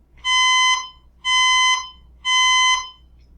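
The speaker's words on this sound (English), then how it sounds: "you can hear that there's an emergency alarm on" An emergency alarm sounds three times in a steady pattern, each loud, piercing electronic tone lasting about half a second to a second, separated by brief gaps, close and clear with no talking.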